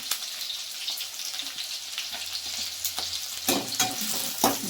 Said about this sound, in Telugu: ఆనియన్ అయితే బాగా వేగిందండి